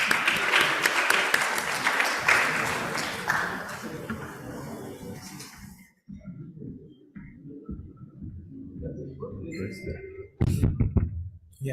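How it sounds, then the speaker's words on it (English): Conference audience at an Islamic banking and finance event applauds a speaker, a dense crowd clapping for about six seconds before it cuts off, followed by quieter room noise and a voice talking. "please welcome a huge round of applause to Professor"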